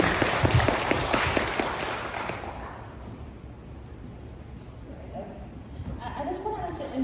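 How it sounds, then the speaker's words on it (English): Audience applause at a World Information Architecture Day conference in Toronto, a dense spread of clapping that is loudest at first, then fades away over a few seconds into quiet room tone. "Another round of applause for Grace, please."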